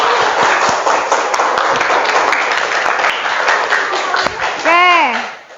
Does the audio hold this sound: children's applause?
yes